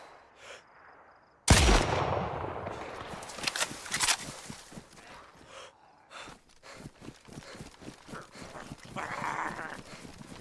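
Gunfire in a zombie survival video game, one loud sharp shot followed by a long series of rapid, evenly spaced cracking reports, with quieter gaps, and no talk.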